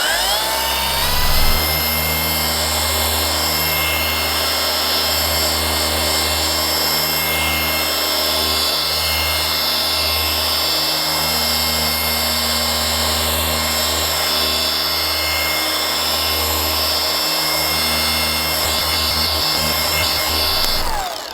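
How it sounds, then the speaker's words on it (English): A machine polisher works D1 non-diminishing abrasive polish enhancer into car paint, a loud steady motor whine and hum running continuously for about twenty seconds with no talking. "I'm actually going to do just a quick little polish enhancer. This is a non-diminishing abrasive polish enhancement called D1."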